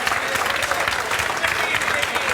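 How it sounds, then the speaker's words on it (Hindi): Loud, steady clapping from a crowd applauding a newly selected bus conductor, dense and continuous throughout. "जोरदार तालियां बजाओ।"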